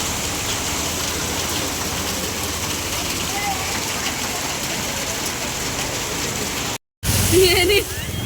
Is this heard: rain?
yes